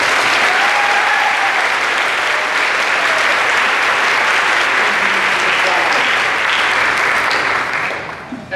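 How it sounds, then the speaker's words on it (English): An audience at a dairy festival pageant applauds loudly and continuously, a dense wash of clapping that holds for several seconds before tapering off at the end. "Give him a round of applause."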